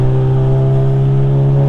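A VW Golf MK7 turbo engine hums at a low, steady idle-like drone under light throttle, close and loud, a constant tone with no rising rev or speech.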